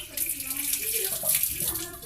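Water pours from a bottle onto potted plants in a steady splashing trickle, close and fairly loud, with a voice talking over it.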